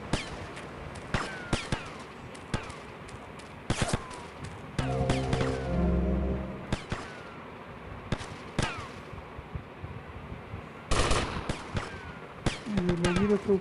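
Gunfire rains down from above in the video game GTA Vice City: sharp, scattered single shots and short bursts, with a longer rattling volley, and occasional quiet talk in between.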